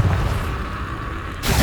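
A Confringo fire spell bursting in Hogwarts Legacy on PS5, a loud rumbling blast that rolls on for over a second before a second sharp impact hits.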